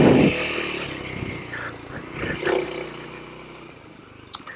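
A dual sport motorcycle riding off-road, its engine droning and revving up and down close by, with a brief sharp knock near the end.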